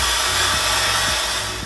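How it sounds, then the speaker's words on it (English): A Dyson Airwrap with its blow-drying attachment runs as a loud, steady, close-up whoosh of hot-air fan noise, unbroken and without speech throughout. "and basically it's just a blow dryer."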